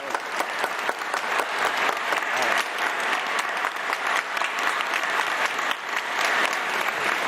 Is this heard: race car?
no